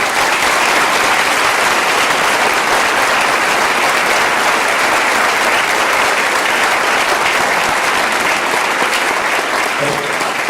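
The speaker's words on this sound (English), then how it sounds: "Please join me in a round of applause" Sustained applause from a large audience at an Honors Day convocation, a loud, dense, unbroken roar of clapping that holds steady for about ten seconds.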